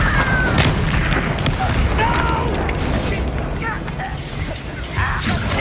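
A Bombarda spell exploding in Hogwarts Legacy, a loud, booming blast amid rumbling game effects that stays dense and forceful through most of the stretch.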